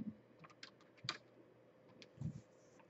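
Scattered keystrokes on a computer keyboard click in a quiet room, a few soft taps and short clusters of presses spread unevenly across a brief moment.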